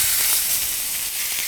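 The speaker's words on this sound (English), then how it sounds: "we get that instant sizzle, which means we're going to have some beautiful color on our chicken" Chicken breast sizzles steadily in a Hexclad hybrid pan, a loud, close, continuous frying hiss with no talking over it.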